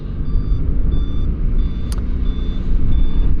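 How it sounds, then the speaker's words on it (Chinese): The turn signal on a Voge SR450X motorcycle gives repeated high electronic beeps in a steady rhythm over the loud, rumbling idle of the engine. "哎呀，这个打转向灯"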